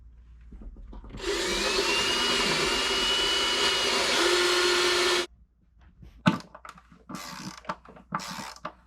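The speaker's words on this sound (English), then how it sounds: "So now, I'm gonna do a hole in the middle," An electric drill bores a hole through two boards bolted together, one loud steady whine of about four seconds that stops abruptly, followed by scattered knocks and clatter as the work is handled.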